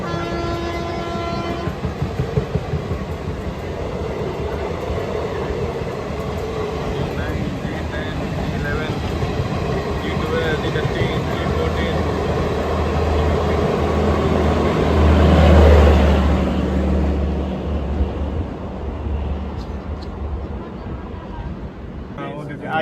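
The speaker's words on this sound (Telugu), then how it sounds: "చూడండి మన ఎదురుగా ట్రైన్ వస్తుందా, అరకోణం వ్యాప్ 4 లోకోమోటివ్ పూరి యశ్వంత్పూర్ గడిపేస్తుంది." An Arakkonam-based WAP-4 electric locomotive hauls the Puri–Yesvantpur express past, its loud, continuous rumble and wheel rattle swelling to a peak before easing slightly, with a horn-like tone early on.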